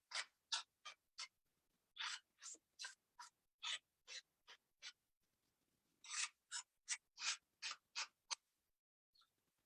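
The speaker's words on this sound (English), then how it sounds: "I also distressed the edges of this. So I'll just do that quickly." Quick, rhythmic scraping strokes as the edges of a paper card panel for a gate fold card are distressed, a steady series of short brushing rasps in two runs, soft and close.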